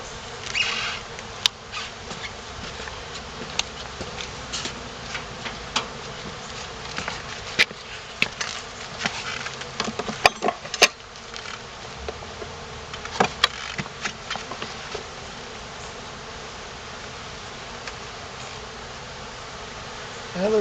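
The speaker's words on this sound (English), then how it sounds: "got lots of bees in the top." Honeybees buzz around an open hive being inspected, a steady close droning hum with scattered knocks and clicks from handling throughout.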